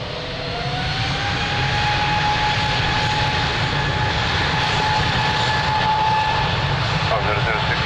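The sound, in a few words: aircraft jet engines taking off, runway 02, Lisbon Airport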